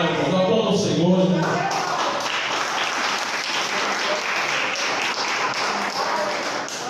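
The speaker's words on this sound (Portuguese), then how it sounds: "Aplauda o Senhor." A church congregation applauding during a Bible school service, steady dense clapping from many hands with some voices mixed in at the start, sustained evenly throughout.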